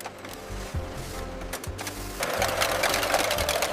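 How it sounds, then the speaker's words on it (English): Can filling machines running at speed in a canning factory, producing a loud, continuous mechanical rattle and hum with a steady rhythmic drive that grows busier and brighter partway through. "Powerful filling machines work with amazing speed and precision."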